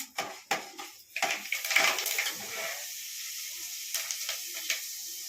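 Fenugreek seeds crackle and sizzle in hot oil in a pan for a fish curry, with sharp pops and a burst of frying hiss settling into a quieter steady sizzle.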